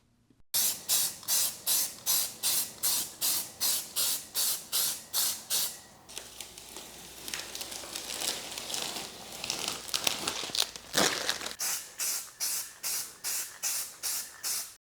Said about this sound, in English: This is just an automotive or some sort of paint stripper.